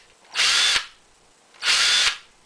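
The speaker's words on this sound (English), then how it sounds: "When I pulled the trigger, I could hear a nice ratcheting effect." A Ryobi 18-volt cordless drill whirs in two short high-pitched bursts, each lasting under half a second, with a quiet gap between them, close and loud with no voices.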